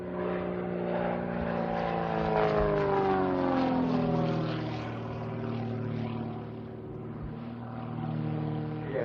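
Aerobatic propeller aeroplane at an Old Warden race day, its engine droning steadily overhead with the pitch sliding as it climbs and manoeuvres, fairly distant and fading slightly before swelling again.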